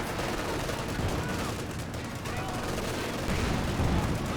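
Dense game-battle gunfire from a Company of Heroes 2 match, including Panzer IV tank shots amid steady fusillades and booms, loud and continuous throughout with no clear pauses.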